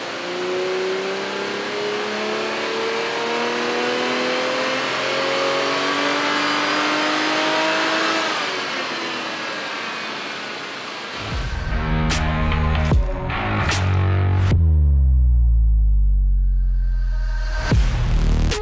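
A stock Toyota MkV Supra revs hard on a dyno, its engine rising steadily in pitch for several seconds, then several sharp blips and throttle lifts with popping on the overrun, loud and close, with no talk.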